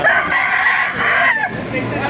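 A rooster crows loudly and close by, a sustained, strained call stretching across most of the moment with farmyard background noise, at a gamefowl market in Baliuag.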